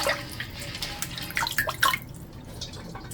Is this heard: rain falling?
no